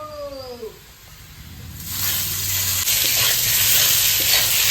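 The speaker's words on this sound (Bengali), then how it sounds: "আলু ভাজা হয়ে গেছে এবার পটল ভাজাটা ওর মধ্যে দিয়ে নুন হলুদটা দিয়ে দেবো" Potato and pointed gourd frying in a pan: after a short, quiet whining cry at the start, a loud, steady sizzle bursts in and continues close up to the end.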